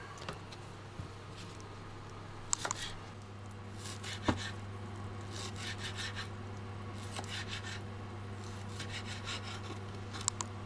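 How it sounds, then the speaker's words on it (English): A knife cuts up leftover barbecue pork with repeated rasping, sawing strokes and occasional sharp taps against the board, faint and close over a steady low background hum. "this is the barbecue pork from the other day, and what we're going to do is, this is good for leftovers, so we're just going to cut this up"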